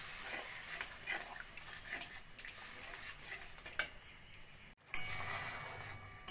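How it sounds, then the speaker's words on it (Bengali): Gravy with spices and milk stirred in a pan, soft repeated ticking spoon taps and light scraping at a quiet, close level with a faint background hiss, ending in a brief louder rustle. "ভালো করে মশলার সঙ্গে মিশিয়ে নেব।"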